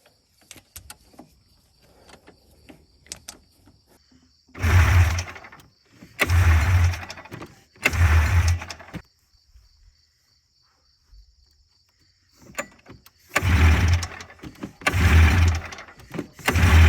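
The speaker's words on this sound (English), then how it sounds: "Boy, I didn't even think that old triple was going to start. Looks like she's going to run." An old triple quad engine turns over in several loud bursts of cranking, then catches and sputters into a rough run. Faint insect chirping and a steady high whine fill the quiet gaps between attempts.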